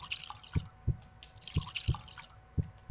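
A heartbeat in the puzzle video game Escape Academy, a steady double-thump lub-dub pulse repeating about once a second, low and close, under a bubbling liquid background.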